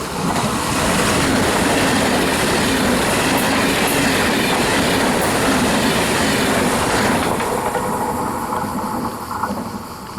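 A train passing on a railway line toward Verona and Venice, a loud continuous roar with rhythmic clatter from the wheels. It stays close and constant, then eases off slightly toward the end.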